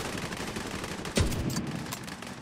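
A single loud .50-cal sniper rifle shot in The Division 2, a sharp blast with a short decaying tail over steady game ambience.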